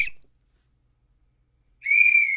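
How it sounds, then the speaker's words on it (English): Someone blows a whistle in a single sharp, piercing tone lasting about half a second, loud and close after a short silence, with the tail of an earlier blast at the start. "Can I get one more whistle?"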